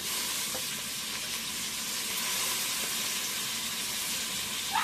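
Fresh mint added to ginger garlic paste frying in oil for bagara rice, giving a strong continuous hiss and sizzle, close and even, with faint stirring and a small clink at the end.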